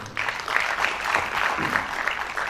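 Brief applause from a seated audience at a talk, a steady patter of many hands clapping throughout at moderate volume.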